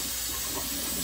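Kitchen tap running steadily into a sink while food is rinsed, a continuous close hiss and splash of water, with no talking.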